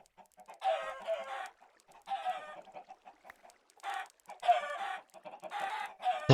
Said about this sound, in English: Now it's killing all the chickens,